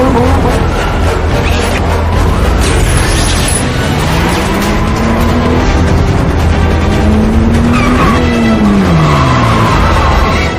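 An armored combat-mode car in a film chase speeds through a city, its engine roaring loud and close as tires skid and whine in long sweeping slides, with crashing impacts and a dense action-music bed throughout.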